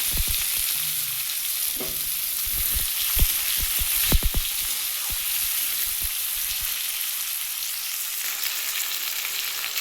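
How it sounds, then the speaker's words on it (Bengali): Onion, tomato, cumin seeds and a split green chili frying in hot oil: a loud, dense, continuous sizzle close up, with a run of sharp spoon taps and scrapes in the middle. "এবার এই তেলের মধ্যে আমি একটু সাদা জিরে ফোড়ন দেবো আর একটা কাঁচা লঙ্কা দুভাগ করে দিয়ে দিলাম পেঁয়াজ আর টমেটোটা ভেজে নেবো"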